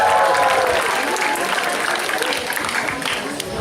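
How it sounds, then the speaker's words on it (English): Audience at a high school end-of-year awards bash applauds an honoree, loud, close, continuous clapping that fills the room and tapers slightly at the end. "so can we just get a round of applause for her?"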